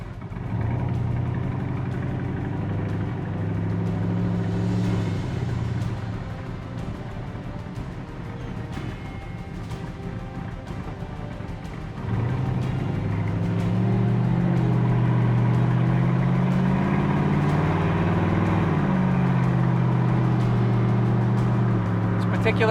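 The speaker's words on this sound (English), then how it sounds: "Particular car is equipped with side pipes, and you can hear them burbling away out there." A Corvette resto-mod with side pipe exhaust burbles in a low, steady rumble close by, the engine note rising and swelling partway through as it revs, sounding loud and continuous with no voices over it.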